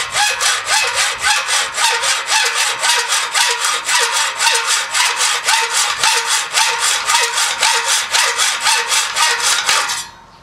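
A hand saw cuts through aluminum threaded rod in fast, even back-and-forth strokes, loud and close, with about thirty rhythmic rasping passes before stopping abruptly.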